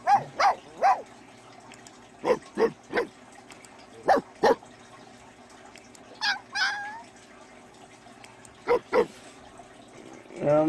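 A loyal pet dog in The Sims 4 barks in short, sharp bursts, several scattered yelps with gaps between them, over a quiet game background with no talking.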